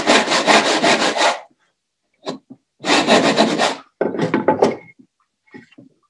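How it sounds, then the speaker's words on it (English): Hand saw cutting a tenon in wood for pre-industrial joinery, two close bursts of rhythmic rasping back-and-forth strokes with short pauses and a few scattered knocks and scrapes between them. "I'll set my saw plate right on the back knife line. I'll start my top and bottoms."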